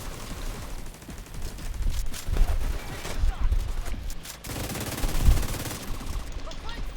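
Rapid video-game gunfire in bursts, steady and loud through most of the stretch, with brief lulls around the middle. Game sounds crowd in alongside it, and a voice speaks intermittently under the shooting.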